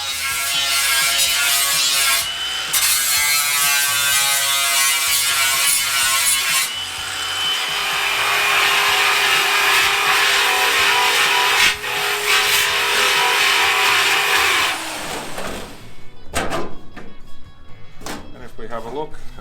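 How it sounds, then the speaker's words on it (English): A flap disc on a grinder smooths a welded rust repair panel on the driver-side A-pillar of a Ford Landau hardtop coupe. It makes a loud, continuous abrasive rasp for about fifteen seconds, then stops and leaves faint clatter. "We'll give it one more pass with a flap disc and we'll call it done."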